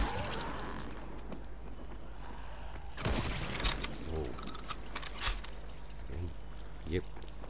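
Golden double-barrel shotgun in the zombie game Dying Light booming a few times in heavy, sharp blasts, with someone talking over the shots and a constant low rumble underneath.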